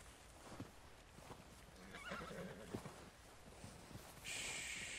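Neighing from a horse in Red Dead Redemption 2 cuts through steady hoofbeats, with a drawn-out whinny in the middle and a bright, sustained high tone near the end, no voices.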